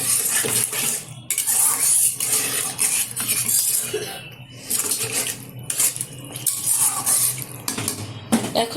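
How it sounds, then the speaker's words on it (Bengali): Water is poured into fried masala in a pan while cooking a rohu fish curry, giving a close, loud splash and sizzle with clinking of a utensil against the pan throughout, and no talk. "দিয়ে দিচ্ছি পরিমাণ মতো জল।"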